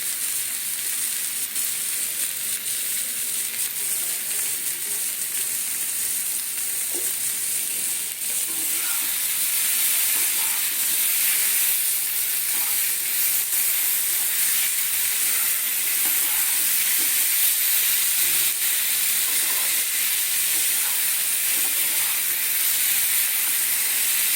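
Potato curry sautéing in a pan with black pepper powder added, giving a steady loud sizzle and hiss of frying that runs unbroken throughout, with faint stirring scrapes and no voices.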